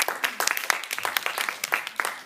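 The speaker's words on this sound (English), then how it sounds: "Let's give a round of applause" Audience applause at the close of a school debate, a small group clapping in irregular crisp bursts, moderately near and fairly quiet, with a brief voice underneath.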